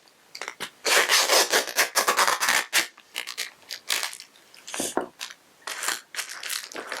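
Nashua foil tape is rubbed firmly over the vapor barrier of a flexible duct, making close, scratchy swishing strokes in uneven bursts with brief pauses between them.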